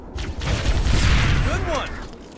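Heavy gunfire from Halo: Combat Evolved rattles in a sustained burst with booming low thuds, loud and close, swelling through the middle before easing off.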